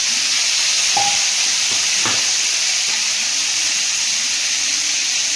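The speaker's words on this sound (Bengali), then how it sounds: "এবার এর মধ্যে চিংড়িটা দিয়ে দেবো।" Prawns dropped into hot oil tempered with whole spices, giving a steady soft sizzle and hiss across the whole span, with a few faint clinks of a spoon or pan near the start.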